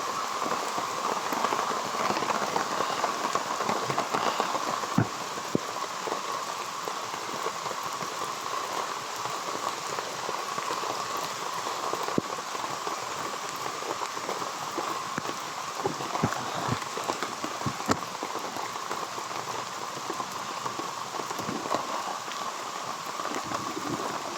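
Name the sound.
heavy rain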